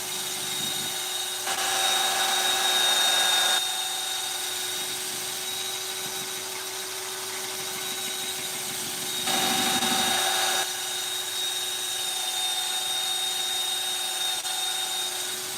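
A lathe motor hums steadily throughout, with two louder stretches of abrasive whirring as 240-grit sandpaper is pressed against a spinning wooden bowl.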